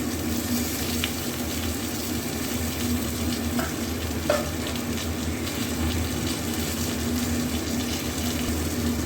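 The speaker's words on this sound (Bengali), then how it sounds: "এবার ফোড়ন দেবো, একটু কালো জিরে, ওটাতেও ফোড়ন দেবো আলাদা করে। আর দিয়ে দেবো একটু আদা।" Black cumin and ginger tempering in hot oil, a steady close sizzle and crackle with a few soft utensil clicks, no voices.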